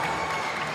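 Rapturous crowd applause in a packed Hanchang Stadium after a made basket during a professional basketball game, a dense, steady roar of clapping filling a brief moment.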